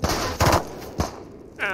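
Rifle gunshots in the video game Into The Radius: a few sharp, loud bangs spaced unevenly across a couple of seconds, standing alone with no talk.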